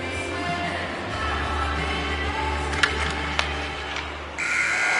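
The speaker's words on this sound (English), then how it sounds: "Final buzzer sounds, and this one's in the books" A steady roar of arena crowd noise in a hockey video game, then a loud electronic final buzzer sounds near the end and holds.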